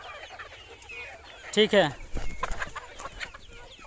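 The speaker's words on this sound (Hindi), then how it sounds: "सोनाली मुर्गी है और वेट 1 किलो ऊपर ही हो सकता है।" Free-range four-month-old Sonali hens out on a farm, clucking now and then, with one brief louder burst of calls in the middle and a voice speaking briefly.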